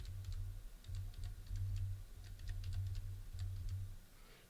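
Soft, rapid keystrokes patter on a low-profile scissor-switch wireless keyboard, a quiet, flat clicking rhythm over a steady low hum.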